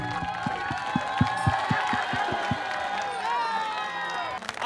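A crowd at an Indian folk music Holi festival event applauds and cheers for a singer, steady clapping with rhythmic low thumps and whoops, loud and continuous throughout.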